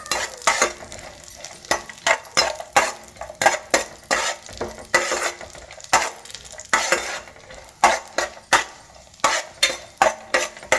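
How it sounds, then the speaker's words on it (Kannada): Cashews, almonds and raisins roasting in ghee in a pan, with rhythmic scraping stir strokes and utensil clinks over a light sizzle, repeated close and fairly loud with no talking. "ತಗೊಂಡಿರುವಂತಹ ಗೋಡಂಬಿ, ಬಾದಾಮಿ, ಒಣದ್ರಾಕ್ಷಿಯನ್ನು ಹಾಕ್ಕೊಳ್ಳೋಣ. ಇದನ್ನು ಚೆನ್ನಾಗಿ ರೋಸ್ಟ್ ಮಾಡ್ಕೊಳ್ಳೋಣ ತುಪ್ಪದಲ್ಲಿ."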